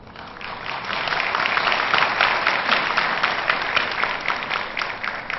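Sustained audience applause fills the hall at a Baku–Ankara concert, dense steady clapping that holds loud and even from start to finish.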